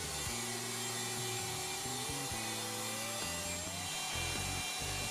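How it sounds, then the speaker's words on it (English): A router guided by a jig cutting pins into a wooden pinboard, a loud continuous high whine with a shifting pitch and a rough cutting roar beneath, steady and close throughout. "With the jig clamped in place, the pinboard is routed."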